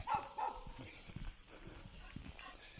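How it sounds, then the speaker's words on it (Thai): Several dogs bark at a national park in Thailand, faint and somewhat distant, with a couple of sharper barks early on and then a scattered, quieter run of yaps and rustling. "หมาเห่ารอแล้ว โหมาเยอะเลยครับเนี่ย"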